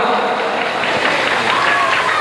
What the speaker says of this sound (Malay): Tepuk tangan untuk remaja masjid Raudhatul Jannah